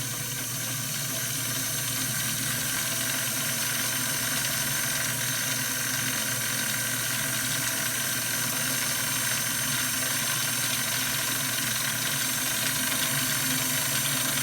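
A Kenmore 1654 sewing machine winds its bobbin with a continuous, even motor whir and hiss that holds steady from start to finish without pauses.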